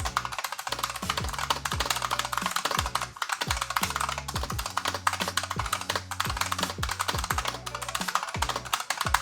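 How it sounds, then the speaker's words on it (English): Fast, continuous clatter of keys on a computer keyboard during a typing test, with quick irregular taps and occasional heavier strokes, close up and without talk. "let's try a typing test"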